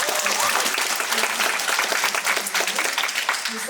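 An audience at a community meeting about a shelter claps loudly and steadily, a close, dense patter of many hands lasting throughout with a faint murmur underneath.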